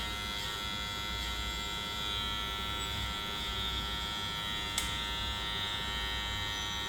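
An electric hair clipper buzzes steadily and evenly while refining a bob haircut, a close, continuous hum with one brief click partway through.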